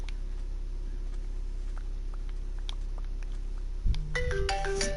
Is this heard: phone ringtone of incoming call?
yes